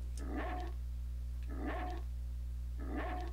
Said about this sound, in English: Huey's barking.